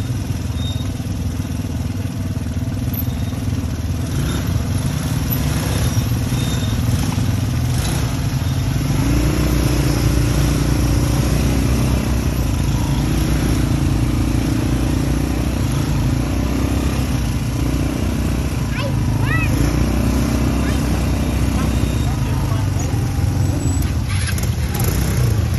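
An ATV engine at a park runs loud and close for the whole stretch, its rough steady drone swelling as it is revved, while people talk over it.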